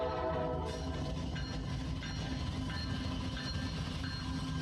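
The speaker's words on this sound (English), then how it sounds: "We are aware of what train runs past the studio." A CSX train rumbles past a studio, a loud, continuous low-pitched roar of engine and rolling wheels with a steady mechanical hum throughout.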